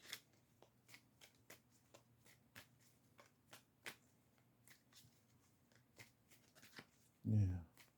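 Playing cards shuffled by hand give a quick series of soft crisp riffles and snaps, repeated every fraction of a second, with a short muffled thump at the end.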